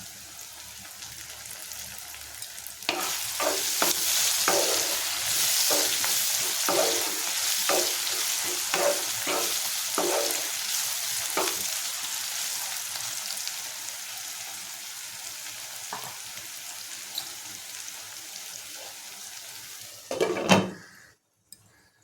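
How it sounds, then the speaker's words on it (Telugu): Onions and tomatoes hit a hot pan and fry with a loud, steady sizzle, punctuated by repeated scraping stirs of a spatula, then a brief clatter of cookware before it cuts off. "మన ఉల్లిపాయలు ఎలా ఉన్నాయి, వేగినాయో చూద్దాం"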